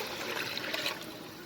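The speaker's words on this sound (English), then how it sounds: "now I'm going to go ahead and add in my water" Water pours steadily into a cooking pot holding fried tomato paste, making a continuous splashing gush close by with no talk over it.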